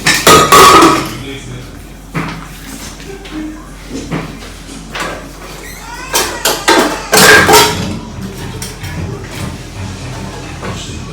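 A metal pressure cooker is pulled out and handled in a home kitchen, giving several sharp clanks and knocks with quieter shuffling between them.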